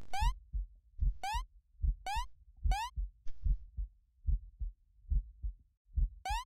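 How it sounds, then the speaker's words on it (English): A heartbeat in the Eversion platform game thumps low and steady in close double beats, with bright rising electronic chirps cutting in between them and no voices. "Oh, there's a heartbeat!"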